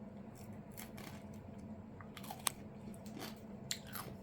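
Someone bites into and chews a raw Sugar Rush Stripey pepper, a mild striped chili, close to the mic: quiet, crisp crunches and wet chewing, with a couple of sharper snaps, no talk.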